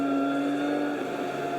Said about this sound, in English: Now just listen to the engine revs